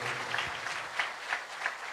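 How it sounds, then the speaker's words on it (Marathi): An audience at a Maharashtra youth conference claps, a soft, moderately distant patter of applause with a few swelling bursts over two seconds. "निश्चित पुन्हा एकदा साहेबांसाठी आपण टाळ्यांचा एकदा वर्षाव होऊ द्या."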